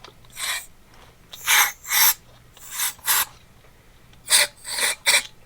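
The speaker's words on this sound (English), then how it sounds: "Now you take some carb cleaner." Carb cleaner sprayed onto the carburetor of a 1983 Honda Magna V45 motorcycle in short hissing bursts, about eight close blasts in irregular clusters separated by brief quiet gaps.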